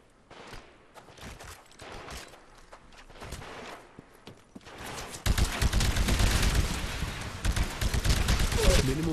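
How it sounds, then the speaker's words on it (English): Game gunfire in Titanfall during a live-fire training exercise: scattered shots at first, then dense, loud rapid bursts fill the second half with no pause, clearly in the foreground. "quit shooting at me, sir"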